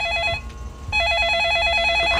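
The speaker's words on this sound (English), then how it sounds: "turns out that there's a cell phone ringing" A cell phone rings inside a video game. Its warbling electronic ringtone sounds loud and close in two bursts split by a brief pause.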